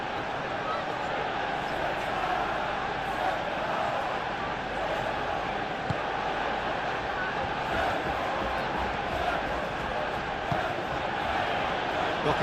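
A stadium crowd in a football video game simulation of a Premier League match gives a steady, broad roar of cheering that runs unbroken throughout, with occasional faint thumps.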